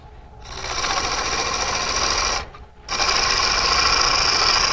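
A gouge on a wood lathe cuts the bottom of a green wood bowl, giving a loud, hissing, rasping whine that stops briefly for about half a second and then resumes just as strongly.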